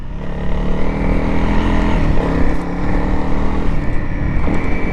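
A motorcycle engine runs close and loud, its pitch swelling briefly in a quick throttle blip before settling back, with no talk over it.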